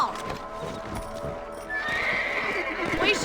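Horses trotting in Red Dead Redemption, steady clip-clop hoofbeats with a whinny, loud and close over a continuous outdoor game ambience, no talk.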